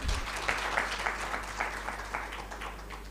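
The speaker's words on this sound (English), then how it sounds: "can we give a round of applause to our panelists, please?" An audience at an oil and gas conference breakout session applauds its panelists with steady, dense clapping at moderate distance for a few seconds.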